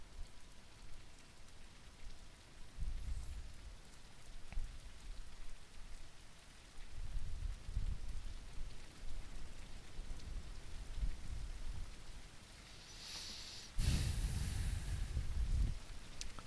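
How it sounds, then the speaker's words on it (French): Steady rain in a video game patters and hisses throughout, with low rumbling swells and a louder burst of heavy rain near the end. "J'ai l'impression qu'il commence à pleuvoir sur le jeu là."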